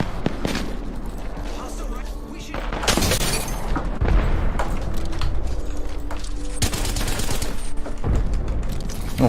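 Bursts of rapid gunfire and booms from Apex Legends gameplay, dense repeated shots in several volleys with a voice talking over the action.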